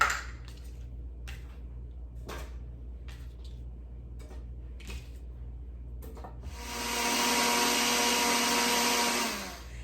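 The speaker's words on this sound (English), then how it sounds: "we're going to take the cucumber and the watermelon, and we are going to blend it" Countertop blender blending cucumber and watermelon: after several scattered knocks and clicks from loading, a steady loud motor whir starts near the end and runs for about three seconds before cutting off, with no voices.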